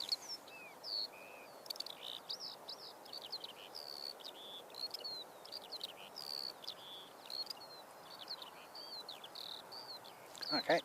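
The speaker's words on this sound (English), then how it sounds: "for those who love the sounds of the birds" Small birds chirp and sing repeatedly in short high calls outdoors at Christchurch Airport, fairly faint over a quiet background hiss, with insect-like trills.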